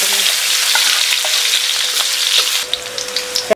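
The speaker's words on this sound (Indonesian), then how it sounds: "Kita masak tumis sayur ini dulu ya. Biasa aku pakai bawang putih sama cabai rawit oranye. Kita tumis." Vegetables stir-frying with garlic and orange bird's eye chilies sizzle loudly and continuously in a hot pan, with light scraping stirs throughout and the hiss easing near the end.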